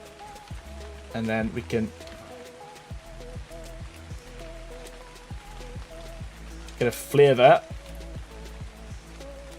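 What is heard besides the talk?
rain falling in the video game Ark Survival Ascended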